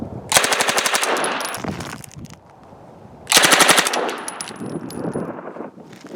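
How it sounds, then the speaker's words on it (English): An Uzi submachine gun fires fully automatic in two long, rapid bursts, loud and close, with a short quieter gap between them. "If you don't like the noise of a fully automatic submachine gun, there's an alternative."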